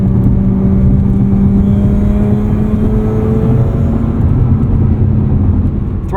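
A 2009 Mazda RX-8 accelerates on a racetrack, its rotary engine droning loud and steady from inside the cabin as the pitch climbs smoothly, with a heavy low rumble and no talking.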